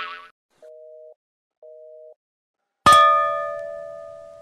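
Telephone busy tone after a call is cut off: two short, evenly spaced electronic beeps on the line, followed by a sharp, bright ringing chime that decays slowly, with no talking.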